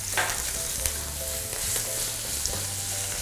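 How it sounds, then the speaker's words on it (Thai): Plenty of garlic stir-frying over lowered heat in a pan for curry-powder shrimp fried rice, giving a constant close sizzle with occasional light clicks of stirring and no voices. "เดี๋ยวเราจะผัดกระเทียมต่อ นะ"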